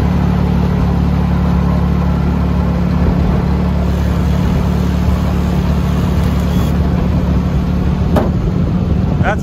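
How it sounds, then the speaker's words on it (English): Tractor driving around a rural house, a loud steady mid-pitched engine drone running without pause and close by, with no clear speech over it. "while he drives the tractor around the house"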